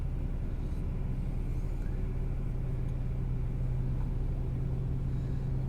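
A truck idles and rumbles at a fuel line beside a highway, a steady low engine drone heard close and continuous with no voices.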